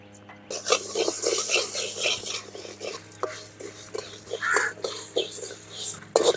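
Coriander seeds, cumin and fennel dry-roasted until golden in a pan, a near, steady run of light scraping stirs and small clinks of a spoon against metal, with no talk.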